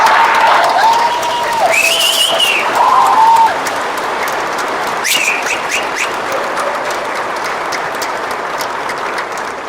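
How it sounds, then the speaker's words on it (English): Sustained audience applause fills a high school graduation ceremony, loud at first and then settling into steady clapping, with a few brief tonal sounds over it early on. "please give them a round of applause"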